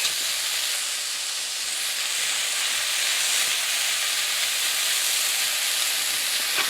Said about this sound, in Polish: To delikatnie ma się teraz nam przysmażać.